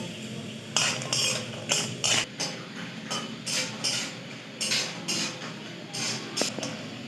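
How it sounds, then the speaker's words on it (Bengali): Urad dal bori frying in hot mustard oil in a wok, with a steady low crackle broken by repeated bursts of stirring and scraping against the pan, close and moderately loud. "এর মধ্যে আমি কিছুটা বিউলি ডালের বড়ি ভেজে তুলে নেবো"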